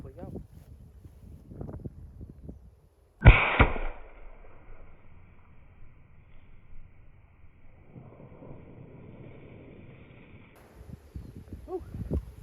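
A single sharp, loud crack from a Rossi .22LR rifle fired outdoors on a windy day, then a faint lingering ringing tone and quieter background rustle.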